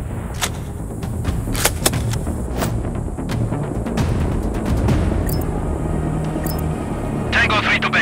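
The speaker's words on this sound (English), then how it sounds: "I heard an explosion." Explosions in the video game Sniper Contracts 2 during an oil field sabotage mission: a series of sharp, gunfire-like booms and thuds rings out over a steady rumbling background, with voices faintly present.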